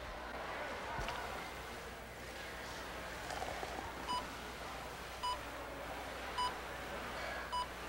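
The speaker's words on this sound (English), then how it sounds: "Don't you hear that beep?" Short electronic beeps sound four times at a steady, evenly spaced rhythm over a low background hum, in an animated short set at a fast-food counter.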